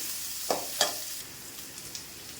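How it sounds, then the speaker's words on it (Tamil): Onions and green chilies being sautéed in a pan for a drumstick-leaf curry: a steady, faint sizzle with two sharper stirring clatters near the start, then quieter light scrapes. "வெங்காயம் போட்டு வதக்குவோம்"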